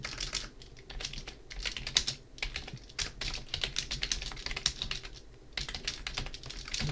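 Rapid, steady typing on a computer keyboard while writing R code, close and clear with dense bursts of keystrokes and short pauses, no talking.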